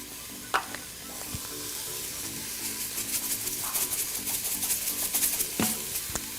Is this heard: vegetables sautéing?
yes